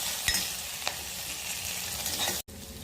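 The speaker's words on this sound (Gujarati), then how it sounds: "હવે આપણે એમાં જીરું નાખીશું" Cumin seeds crackle and sizzle in hot oil with fenugreek already tempered in a pressure cooker, a steady dense frying hiss with a few sharper pops, breaking off abruptly near the end before resuming.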